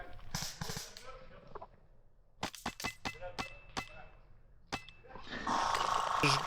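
Sharp snapping airsoft gun shots ring out in quick bursts, several single cracks spaced apart, with brief muffled voices and rustling between them.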